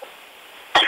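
A single short, sharp cough near the end after a brief quiet moment, close and fairly loud.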